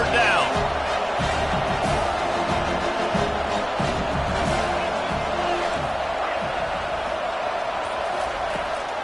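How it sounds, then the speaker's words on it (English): Stadium crowd at a football game roaring steadily for the defense on third down, a loud continuous wash of cheering and whoops with no break. "Decibels rising as the crowd gets behind this defense on third down."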